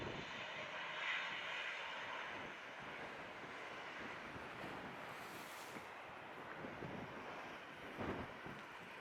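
An airplane engine roars at Montego Bay airport in Jamaica, a broad, distant, sustained rumble with gusty wind noise over it and no voices.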